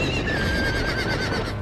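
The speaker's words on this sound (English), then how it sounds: "Horses. Trample him." A horse in the Game of Thrones video game gives a single loud, shrill whinny that wavers briefly and fades, close and clear.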